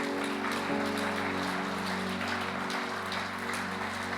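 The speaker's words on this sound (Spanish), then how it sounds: "Dale ese aplauso, Señor" Church congregation at an evangelical service applauding, steady sustained clapping blended with a held musical drone beneath, fairly quiet and even throughout.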